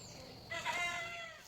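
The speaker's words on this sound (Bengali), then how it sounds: "এদিকে দেখি চাচি শাশুড়ি মুরগিকে খেতে দিয়েছে" A rooster crows over a soft murmur of clucking hens being fed, fairly close, with a short sharp sound at the very end.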